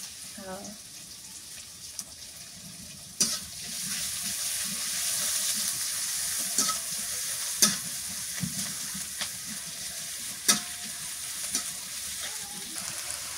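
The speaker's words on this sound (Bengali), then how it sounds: "পেঁয়াজ ভাজা হয়ে গেছে" Onions frying in a pan make a loud, steady sizzle that runs throughout, with occasional sharp clinks and scrapes from stirring close by.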